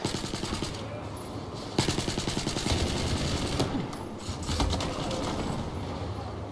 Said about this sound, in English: I just keep shooting.